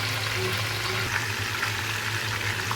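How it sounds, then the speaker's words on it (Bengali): Meat frying lightly in a hot pan after being turned over gives a steady, even sizzling hiss that runs the whole time over a low background hum. "মাংসগুলো উল্টিয়ে দিলাম হালকা ভেজে নেব বেশি ভাজবো না"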